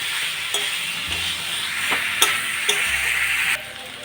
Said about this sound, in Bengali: মশলা দিয়ে ভালোভাবে কষিয়ে নিচ্ছি